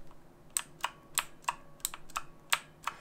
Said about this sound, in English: it clicks then presses, and you hear both sounds really distinctively